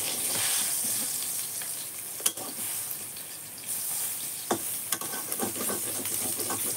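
Cauliflower curry simmering and sizzling in a pan as it is stirred, a soft steady hiss of frying broken by a few sharp scrapes and knocks of the spoon against the pan.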